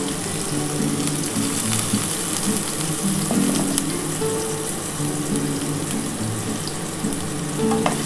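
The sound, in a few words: bitter gourd pieces frying in oil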